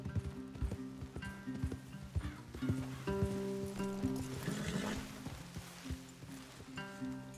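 Horses in Red Dead Redemption 2 clopping over ground with rhythmic hoofbeats, snorts and a whinny, close and fairly loud, with faint game sounds and brief talk beneath.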